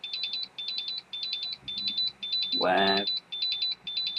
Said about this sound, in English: but the alarm's going off